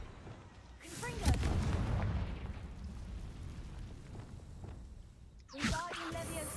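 A blasting spell goes off in the Hogwarts Legacy video game: a sharp explosive boom followed by a rolling rumble, then a second burst near the end, with no talk over it.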